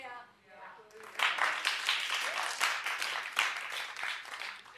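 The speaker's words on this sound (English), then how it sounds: "clap if you're with me." A studio audience claps together on a daytime talk show, a dense wash of applause starting after a second of quiet and holding steady and loud to the end, with a voice briefly heard at the start.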